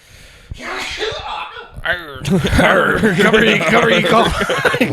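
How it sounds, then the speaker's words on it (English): A single sneeze bursts out near the start, followed by a voice and then laughing and chatter. "Cover your sneeze."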